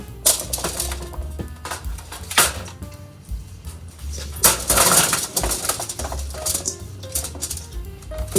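Roasted vegetables (asparagus, carrots, zucchini, yellow squash) are set onto a sprayed, foil-lined pan, giving irregular close crinkles, taps and soft clatters of pieces landing on the foil, with no talking.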